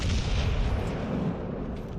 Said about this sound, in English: What is with these Japanese battleships shooting fucking HE all the time?